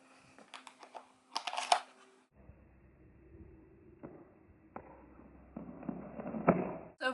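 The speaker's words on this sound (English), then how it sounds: "So now we're going to holster it." Pistol slid into a holster during a shooting lesson: a few close clicks and rustles of material, then a soft scrape and a final snap, with no talk.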